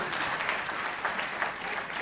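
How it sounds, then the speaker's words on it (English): A crowd at a school board meeting breaks into steady applause, a dense wash of clapping that fills the room for two seconds. "Hold your applause."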